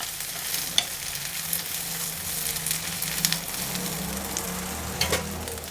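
Steady sizzling of frozen peas frying in tempering oil, with occasional stirring scrapes and small pops, close by and continuous throughout.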